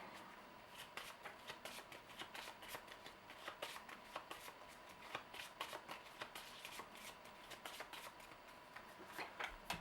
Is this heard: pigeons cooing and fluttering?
no